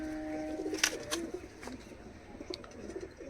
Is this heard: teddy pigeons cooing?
yes